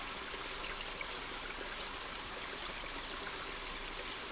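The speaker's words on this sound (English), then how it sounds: "I think it's the sound of water that's asking me to quit." Water from the King's Quest V video game flows in a steady, faint, soft stream that runs unbroken and alone, with no voices over it.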